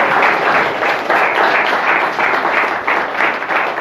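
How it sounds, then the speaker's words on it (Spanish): Loud, sustained applause from a church congregation during a morning service, many hands clapping in a steady, pulsing roar. "Alguien dé un aplauso al Señor en esta mañana."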